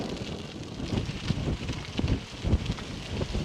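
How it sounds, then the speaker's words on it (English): Strong, steady wind buffets the microphone out in the open over a lake, a continuous low rumbling roar with gusty surges and no voices. "Wind out here is brutal."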